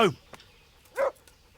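A dog in the video game Kingdom Come Deliverance gives two short, close barks about a second apart, with quiet room tone between them.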